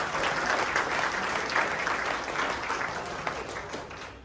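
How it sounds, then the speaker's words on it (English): Sustained applause from an audience at a collegiate volleyball awards reception, honoring the AVCA 2023 Second Team All-Americans; steady, dense clapping throughout with no talk, fading slightly at the end. "Let's have one round of applause for our AVCA 2023 Collegiate Second Team All-Americans."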